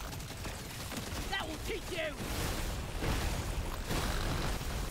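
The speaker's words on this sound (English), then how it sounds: "A lot of explosions helping me out with some of the AoE at least." Explosions and gunfire in Deep Rock Galactic crackle and thump in a busy, continuous barrage, with bursts swelling and fading over mechanical clatter and a few short tonal game effects.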